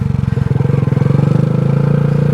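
Honda Grom motorcycle engine running close by in first gear, a steady, throaty low hum that climbs slightly in pitch as the revs build, with a brief bump near the start.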